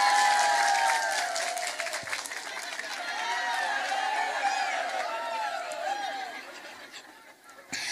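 An audience at an Indonesian talk claps on request. The applause is loudest at first and then eases, mixed with warbling, chirping calls and some crowd noise, and fades toward the end.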